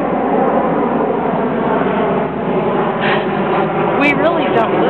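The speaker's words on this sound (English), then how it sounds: "We still hear just as many planes, just as loud." Aircraft flying overhead, a steady loud broadband engine roar that fills the whole clip, with a brief rise in pitch near the end, heard outdoors.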